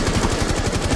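Rapid gunfire in a video game rattles off in a quick, even burst while shooting through a wall, loud and close with no talking.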